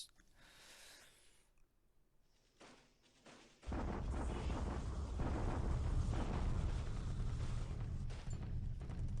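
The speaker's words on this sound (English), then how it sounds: "bombardment attacking Changsha" Bombardment explosions in the War in the Pacific strategy game, a few soft distant booms followed by a sustained loud roaring rumble of blasts, with no voices.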